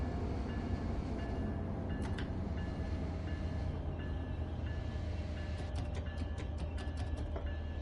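A simulated commuter train runs on the New Jersey Morristown Line near East Orange in Train Sim World 6, a steady loud rolling rumble with faint rail clicks and squeals throughout, no talking.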